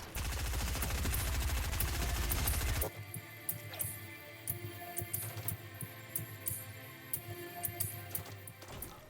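Video-game gunfire during a match in a destroyed Salty Springs: a dense, loud burst of rapid automatic fire lasts nearly three seconds, followed by scattered single shots and impacts over a low hum.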